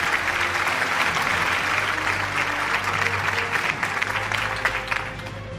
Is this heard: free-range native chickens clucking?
no